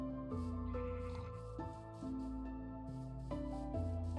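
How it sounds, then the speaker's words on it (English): Minecraft sheep bleat in a steady, close run of wavering calls that continue without a break over a constant background. "Hello, other sheep."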